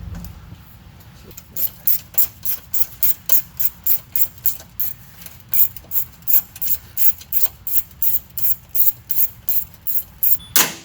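Rhythmic ratcheting clicks come in a steady run of about twenty close, crisp bursts over a low background rumble while a 7 mm fastener is worked to free the underbody access flap on a 2016 Mustang GT during an oil change.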